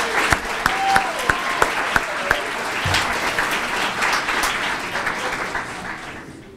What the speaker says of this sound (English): One more round of applause for the students from Ridge.